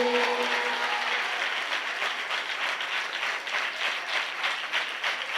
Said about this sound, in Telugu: నమ్మిన వారు గట్టిగా చప్పట్లు కొట్టండి.